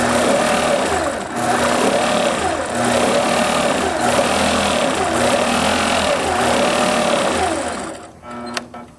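Quilting sewing machine stitching with its Quilt Glide stitch regulator on, set to 13 stitches per inch; a loud, continuous rapid mechanical whirr with slight speed swells, then a brief stop near the end.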